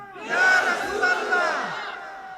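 A large crowd gathered at an Islamic religious sermon loudly chants takbir together, a rising massed roar of many voices that swells, peaks and holds for about two seconds.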